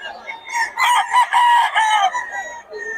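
Stags, young roosters, crowing loudly and close by, one long drawn-out cock-a-doodle-doo with a few clucks around it, heard on its own with no talking.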